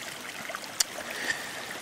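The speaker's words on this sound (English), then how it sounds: "This is like Mill Creek that trickles along all the way, probably up to the mountainside." Mill Creek trickles along a mountain trail with a faint, steady watery hiss, broken by one small splash or click partway through.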